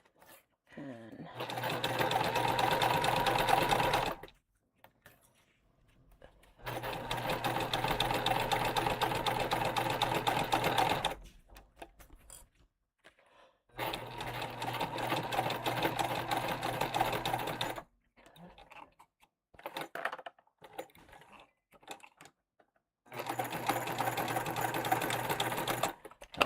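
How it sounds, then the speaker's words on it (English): Sewing machine running in four long steady bursts, top stitching along the upper edge of a fabric tote bag, with short pauses between runs and occasional quiet speech in the gaps. "So I'm going to just start sewing and keep going to the top"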